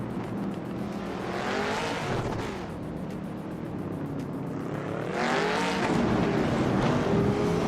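Race cars roar off the start at the Nashville Superspeedway infield, a classic 1968 Chevrolet Camaro on pole, engines surging loud and close in overlapping waves with faint tire noise and no voices.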